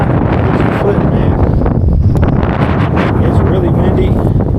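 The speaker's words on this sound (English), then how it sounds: "It's really windy." Strong wind buffets the microphone on a fishing boat on the water, a constant loud roar and rumble filling the whole clip with no break.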